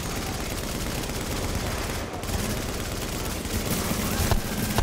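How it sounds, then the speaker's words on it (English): Shotgun fire and heavy gunfire in a video game firefight, a continuous loud, dense barrage of shots with occasional sharper blasts, under faint voices. "I'm dealing with a shotgunner that's trying to shoot me in the face here"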